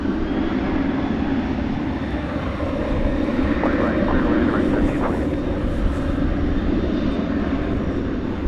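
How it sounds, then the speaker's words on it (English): A Boeing 737-800 airliner taking off at DFW Airport, a loud steady jet engine roar heard from a distance and holding at full power throughout, with faint talk mixed under the noise. "This one's a 737-800."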